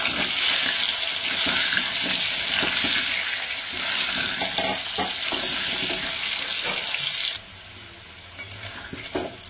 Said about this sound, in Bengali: তেল গরম হয়ে গেছে, এর মধ্যে নুন দিয়ে দেবো, আলু ভেজে নেব।